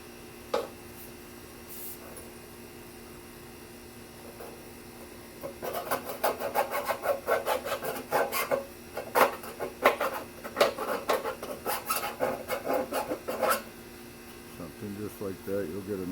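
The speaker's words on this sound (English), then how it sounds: "I'm going to use a file to deburr this" Metal file rasping across the cut ends of aluminum gutter sections to deburr them, a burst of quick close strokes in the middle of the clip, with quiet talk around it.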